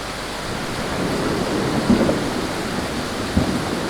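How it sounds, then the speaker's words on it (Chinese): Heavy afternoon rain, part of an afternoon thunderstorm, pours steadily as a dense, even wash of noise, with a couple of faint low thumps that may be distant thunder. "结果我还没到我停车的地方，就开始下大雨了"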